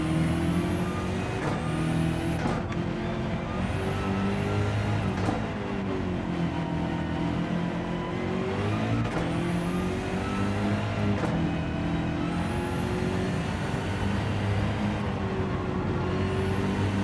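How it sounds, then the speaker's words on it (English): Race cars in the Gran Turismo 7 video game hold a steady, loud engine drone with shifting pitch as the cars accelerate and change gear, and whooshes sweep past throughout. "I've got a car coming through."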